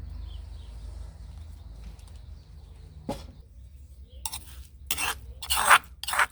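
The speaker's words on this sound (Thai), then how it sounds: "เราจะตักพริกออกแล้วนะคะ" Coarsely pounded chili is scooped out of a mortar, with a quiet lull broken by a sharp scrape, then several louder scraping and clinking strokes near the end.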